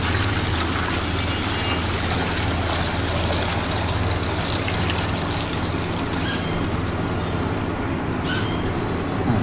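Water pours steadily into the tank of a Vision air cooler, a continuous trickling wash over a constant humming drone, with no pauses.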